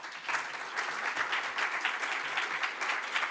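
A hall audience applauds after an ambassador's speech on EU and Australian climate and energy cooperation, a dense, even wash of many hands clapping at once, steady and close for the whole stretch.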